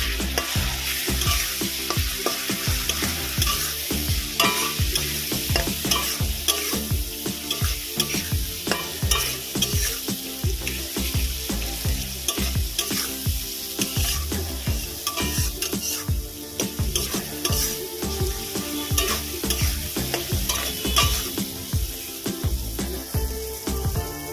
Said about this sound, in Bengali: এবার মশলাটা ভালো করে কষিয়ে নিচ্ছি